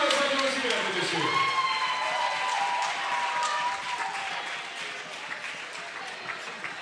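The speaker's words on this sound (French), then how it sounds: "on les applaudit, mesdames et messieurs" Sustained applause from a crowd at a tug-of-war event, steady clapping filling the space and fading slightly toward the end, with a voice speaking over it early on.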